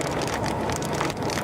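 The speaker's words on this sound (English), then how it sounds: "How big is this hail?" Hail pelts down hard during a tornado storm, a dense, loud, continuous clatter of ice striking surfaces with wind noise and no talk.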